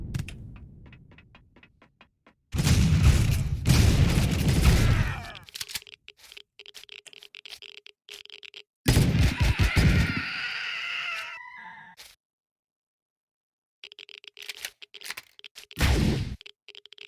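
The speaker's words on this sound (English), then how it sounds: "As a timed explosion that destroys some of the loot containers." A timed explosion destroys loot containers in the video game Empyrion Reforged Eden. It comes as two loud, rumbling bursts a few seconds apart, separated and followed by quieter scattered game effects.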